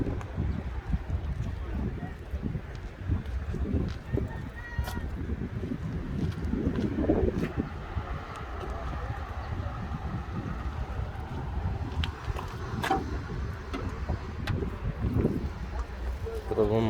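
A Mercedes Vito van's engine idles with a steady, broad low rumble that holds throughout, heard close, with faint voices mixed in beneath it.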